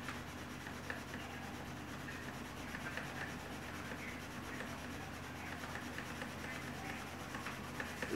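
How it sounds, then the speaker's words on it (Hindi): Sandalwood rubbed and ground into a thick paste makes a faint, continuous scraping rub that goes on steadily and softly with no voices. "ये देखिए मैं चंदन घिसा है, बहुत गाढ़ा करेंगे अभी हम इसको, घिस घिस के गाढ़ा कर लेंगे।"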